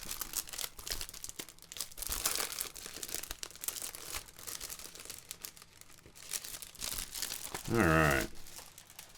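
A packet from an electronics kit being torn open, with crinkling and rustling plastic in irregular bursts, close and fairly quiet; a voice speaks briefly near the end.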